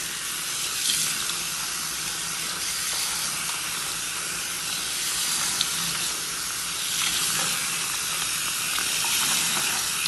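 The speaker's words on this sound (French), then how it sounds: "je vais rincer." Running water from a salon tap rinsing hair and a cape, a steady, fairly loud hiss and spray that continues throughout with slight splashing variations.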